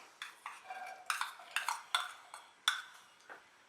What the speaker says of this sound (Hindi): पैन में डालेंगे 3 टेबलस्पून ऑयल, 1 मीडियम चॉप प्याज।